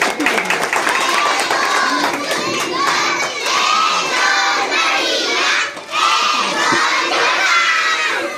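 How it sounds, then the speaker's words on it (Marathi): A large crowd at a village political gathering honouring a local MLA cheers and claps loudly and without a break, mixing shouting voices, some high-pitched, with applause. "मग लहानते साहेब यांच्यासाठी आपण सर्वांनी जोरदार टाळ्या वाजवायच्या."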